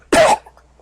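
A voice imitates a single short, harsh cough from a wounded griffin, heard close and alone with a brief rough burst that fades quickly.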